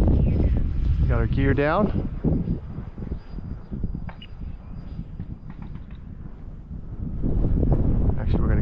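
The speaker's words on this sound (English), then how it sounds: "That wind is horrible right now." Strong, gusty wind buffets the microphone with a steady low rumble at an outdoor RC flying field where 70mm EDF jets, an FMS Viper and a Yak 130, are flown; someone speaks briefly near the start.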